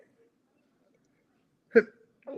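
A single quick sneeze bursts out of near silence, followed by a brief murmured voice.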